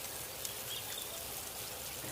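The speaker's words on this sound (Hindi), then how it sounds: "अरे, ये बारिश तो बढ़ ही गई है।" Steady, dense hiss of rain falling continuously, even and unbroken throughout, with no voices.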